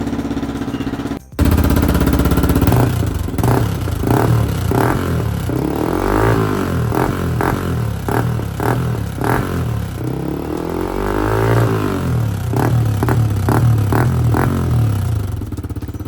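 A 2024 modified Yamaha MT-15 motorcycle with a full-system aftermarket exhaust and a dB killer fitted is revved close by. Loud, repeated throttle blips rise and fall over a rumbling idle, with a short cut near the start.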